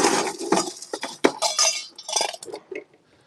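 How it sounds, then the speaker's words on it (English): Ice rattles hard inside a cocktail shaker with espresso for a Caffè Shakerato, a loud burst of clattering shakes that trails off into a few lighter knocks. "of course I'm going to shake it over ice as well"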